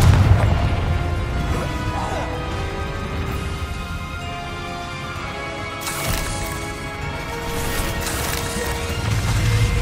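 Confringo fire-blast spells in the Hogwarts Legacy video game, cast during a fight with a giant spider: a steady run of booming, crackling blasts over a dense rumbling game soundscape, loud and continuous across the whole stretch.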